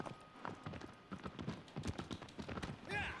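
Horse hooves gallop in the Shadow of the Colossus remake on PS4 Pro, a fast, steady clip-clop rhythm under someone talking in French, with a brief whinny-like tone near the end.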